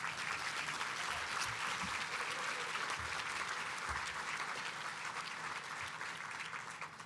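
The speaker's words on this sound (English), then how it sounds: "Can we get a round of applause for the people who prepared our food?" A luncheon crowd at a Women's History Month event in Bloomington gives a full, steady round of applause that stays loud and dense for about seven seconds before starting to taper off at the end.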